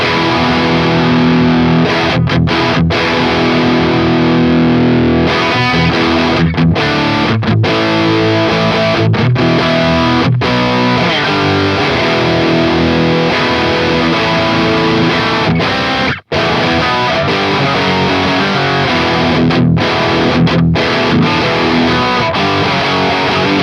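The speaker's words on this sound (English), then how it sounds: "it's still a Tube Screamer and it has to sound hunky" Electric guitar driven through a Tube Screamer overdrive in the Neural DSP Archetype Nolly X plugin, playing loud, continuous crunchy riffs at the edge of breakup, with a few brief stops between phrases.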